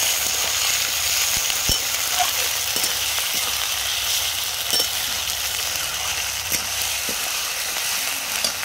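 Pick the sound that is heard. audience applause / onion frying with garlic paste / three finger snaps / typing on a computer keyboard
onion frying with garlic paste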